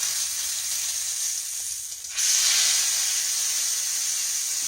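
Potatoes frying in hot grease in a skillet, a steady loud hiss and sizzle that holds throughout, briefly dipping then swelling louder partway through.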